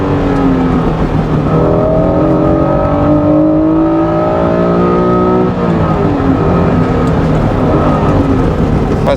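Honda NSX engine revving hard while driving, a loud continuous howl with rising and falling harmonic sweeps as revs climb and shift, steady and close throughout with no talk.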